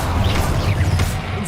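Confringo blasting curse cast in Hogwarts Legacy, a loud crashing impact with a whooshing burst and low rumble, a single hit followed by a brief decaying tail over game background.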